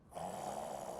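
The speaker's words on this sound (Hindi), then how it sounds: "ये तो खर्राटे लेने लगी" A woman snores in a sitcom scene, one brief, close, rasping breath that holds steady at moderate volume with no speech over it.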